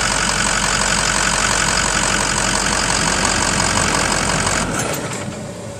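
A Ford Power Stroke 6.0 turbo diesel truck engine idles up close with a loud, steady, rattling clatter that drops off abruptly near the end.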